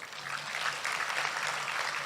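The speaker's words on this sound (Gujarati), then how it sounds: "એ વાતે આપણે બધા એમને જોરદાર તાળીઓથી વધાવી લઈએ." An audience at a Gujarati talk applauds with steady, dense clapping that holds at an even level for a couple of seconds.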